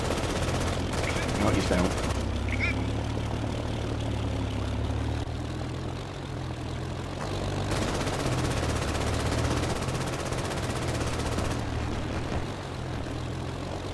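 Machine gun fire in a video game clatters continuously under a low engine drone, with a brief spoken remark over the din.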